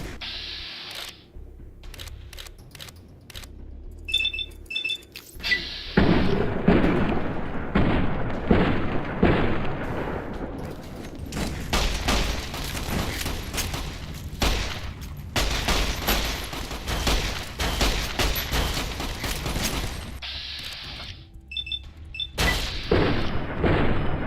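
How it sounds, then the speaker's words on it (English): A .45 auto pistol fires in the video game Fallout: New Vegas, sharp, loud, separate reports scattered among bursts of other game gunfire and booms, with quieter gaps between volleys. "45 auto pistol."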